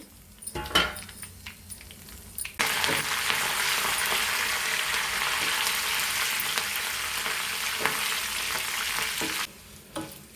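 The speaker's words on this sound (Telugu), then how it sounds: "ఇప్పుడు ఈ పోపులు అయితే వేగినాయి కదా" Urad dal, garlic, dry red chillies, cumin and curry leaves frying in hot oil for a tempering, a loud, steady crackling sizzle that starts abruptly, holds for several seconds near the pan, then drops away, with light stirring clinks.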